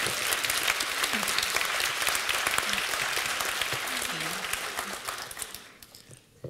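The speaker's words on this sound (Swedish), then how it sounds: "Applåd." An audience at a research day event breaks into steady applause, a dense wash of clapping that carries on for several seconds before tapering off at the end.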